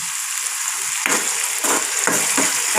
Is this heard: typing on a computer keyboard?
no